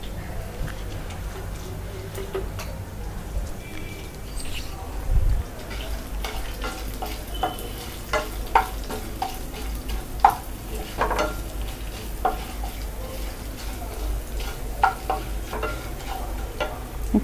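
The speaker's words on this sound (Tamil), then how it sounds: "கருவேப்பிலை. இதை நல்லா நம்ம வதக்கணும்." Curry leaves sautéed in a pan for Tamil-style country chicken kuzhambu, with a soft steady sizzle, stirring scrapes and occasional light ticks of a spoon against the pan, close and moderate.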